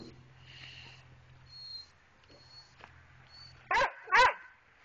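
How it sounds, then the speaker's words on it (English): A dog lets out two loud, close barks in quick succession near the end, after a stretch of low background rumble and faint household sounds. "You are such a loud dog."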